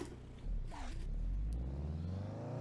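Race car engine in the Assetto Corsa video game, heard as a low rumbling drone that swells after a brief scrape, revving steadily upward and holding at a moderate, fairly close level without talk.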